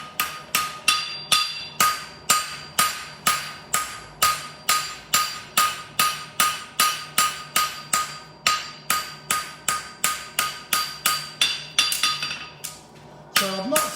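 A hammer strikes metal in a steady, evenly spaced series of sharp blows, about two per second, as a shoe's inside border is knocked down; the rhythm breaks near the end with a softer clatter.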